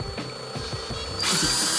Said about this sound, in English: 32mm socket onto a drill, and then very carefully